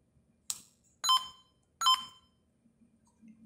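A Renault factory car radio, model CD5408, gives three short electronic beeps, the first a quick click and the next two longer tones, close and clear against a quiet background.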